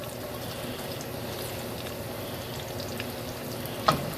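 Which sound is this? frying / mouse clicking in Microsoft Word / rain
frying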